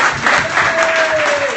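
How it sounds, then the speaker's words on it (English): An audience at a startup drinks and pitch night in Melbourne applauds, dense continuous clapping loud and close throughout, with a faint tonal sound gliding beneath the crowd. "I just would like to ask for your round of applause to our volunteer organizing team"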